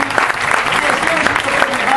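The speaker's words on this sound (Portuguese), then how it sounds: "Eu queria agradecer e pedir uma salva de palmas para vocês" A packed auditorium audience at a Friday-night political gathering breaks into applause, a brief, dense burst of clapping with some voices underneath.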